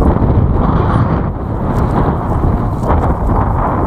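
Steady, loud wind buffeting the microphone throughout, a dense low rumble with gusty swells and no voices.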